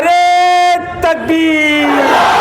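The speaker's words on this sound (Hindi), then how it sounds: "तो हम सब मिलकर बोलेंगे नारे" A crowd at a hunger-strike protest in Solapur shouts slogans in unison, loud sustained chanted calls with a short break before the next massed shout swells up, very close and strong.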